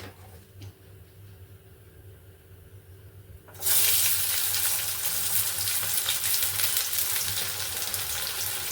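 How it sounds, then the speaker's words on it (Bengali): After a few quiet seconds, chopped onion drops into hot oil in a wok and bursts into a loud, sustained close-up sizzle that continues to the end. "এবার দিয়ে দেবো আমি কুচনো পেঁয়াজ"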